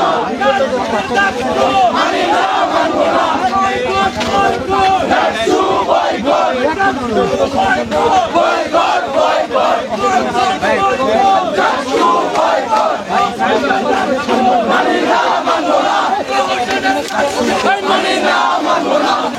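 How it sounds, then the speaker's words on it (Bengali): Protesters chanting slogans to boycott the JAKSU student union election, accusing the administration of bias: a large crowd shouting rhythmic, repeated chants loudly and continuously in unison, with crowd babble underneath. "তারা জাকসু বয়কট এমন স্লোগান দিচ্ছেন"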